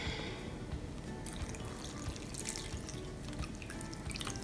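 Fresh milk is poured into an ensaymada dough mixture, a steady close-up liquid pour with light splashing and dripping that runs unbroken for a few seconds with no talk.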